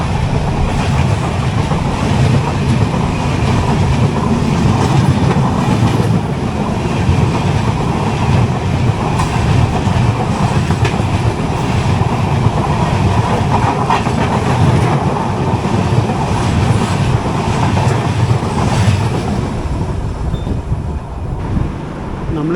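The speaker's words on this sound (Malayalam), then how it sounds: "39066 പോർബന്ദർ കൊച്ചുവേളി എക്സ്പ്രസ് ആണ്." The Porbandar Kochuveli Express rumbles past on the rails, a loud, sustained roar of rolling wagons and faint clatter that holds steady for over twenty seconds.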